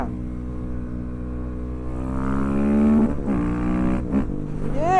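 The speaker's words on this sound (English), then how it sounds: "This is a proper bike now" A 2024 KTM 690 SMC R single-cylinder motorcycle engine pulls hard while riding, its loud droning note rising in pitch under acceleration, then shifting and revving again up close.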